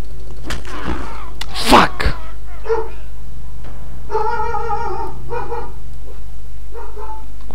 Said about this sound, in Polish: Kurde, pies zaczął szczekać.